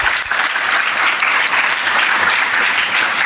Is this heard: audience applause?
yes